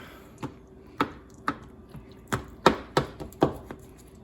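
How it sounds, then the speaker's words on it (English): A knife cuts through a beef lasagna in a pan. Around a dozen crisp, sharp chops and taps land at an uneven pace, growing closer together toward the end, close up with a faint background hum and no voices. "I have the honors of slicing this baby up."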